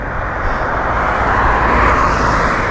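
Steady broadband road traffic rushing past close by on a roadside near a cycle path, a continuous loud wash of engine and tyre noise with no pauses.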